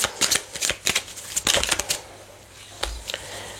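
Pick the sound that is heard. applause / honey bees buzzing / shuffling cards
shuffling cards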